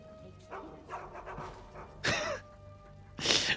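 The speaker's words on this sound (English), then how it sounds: "All you can hear is just barking." Several dogs barking inside a room in the video game Skyrim, where about a dozen dogs have been spawned; scattered yips and pants rise to two loud, close bursts of barking, with no talking.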